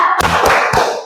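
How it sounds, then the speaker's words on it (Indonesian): Three quick, sharp hand claps in a steady rhythm, loud and close in a classroom. "Ya, tepuk tangan."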